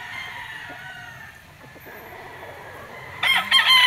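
Bulik gamefowl roosters at a game farm crow near the end, a loud, clear cock-a-doodle-doo that breaks over a low murmur of farmyard background.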